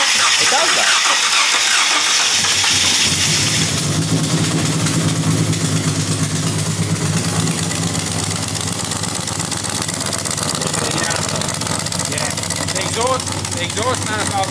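Barra engine fitted in a C1100 International pickup truck idles loudly and close with a rough, steady churn and uneven low rumble, lasting the whole stretch, someone talking over it.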